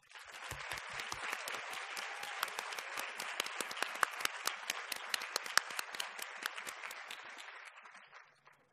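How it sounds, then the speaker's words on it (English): An audience at a medical keynote lecture applauds, a sustained, even round of many hands clapping that keeps going for several seconds before it fades out. "Please join us in applauding Drs. Hatch and Ang, as well as our special guests."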